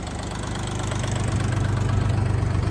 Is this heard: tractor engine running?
yes